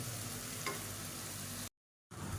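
Coconut paste being stirred into a frying green peas gravy in a pan, a steady low sizzle with soft stirring scrapes, close and alone, cut by a brief silence near the end.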